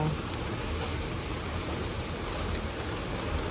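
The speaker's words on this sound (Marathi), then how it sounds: "आज पाऊस जाम जोरात आहे" A dense, steady hiss of heavy storm rain pouring without pause at Safale, loud and close, with no voices.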